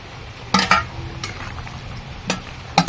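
Taro curry with spices being stirred in a pan, a few sharp scraping strokes and clinks of the spoon against the pan spaced over a few seconds above a faint background hiss.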